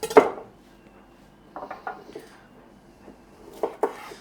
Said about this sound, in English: I think I'm just going to cut them in half